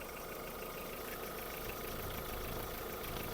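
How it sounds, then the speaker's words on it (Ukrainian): A Volkswagen car engine with automatic transmission idles steadily with a low, even rumble, faint and unchanging over a few seconds. "Робота двигуна."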